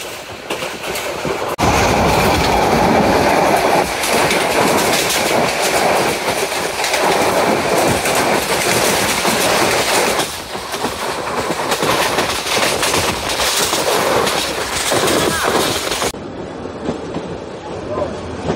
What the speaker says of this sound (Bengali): আর দুরন্ত গতিতে শ্রীনিধি থ্রু পাস করে যাচ্ছে